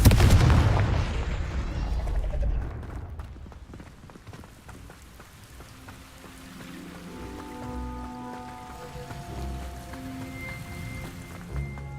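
The Confringo fire spell exploding in Hogwarts Legacy, a heavy rumbling blast at the start that fades into a long crackling, rain-like tail with faint tonal chimes.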